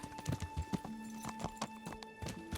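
Rhythmic clip-clop of horse hooves trotting at a steady pace in the video game Kingdom Come: Deliverance, with a faint tonal hum underneath.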